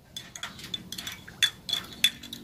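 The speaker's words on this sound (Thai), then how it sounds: "นำทุกอย่างนะคะคนให้เข้ากันนะคะ" A spoon stirs a mixture of sugar and MSG in a container for a plant fertilizer, giving a few light clinks and scrapes close by in a short, uneven run.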